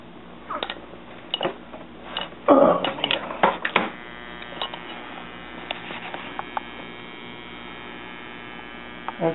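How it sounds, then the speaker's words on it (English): A fill solenoid in an appliance on test, with its door safety switch removed, gives a steady electrical hum in fill mode. Scattered clicks and ticks sound over it, close by, and no one talks. "That's a fill solenoid."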